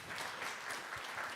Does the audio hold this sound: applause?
yes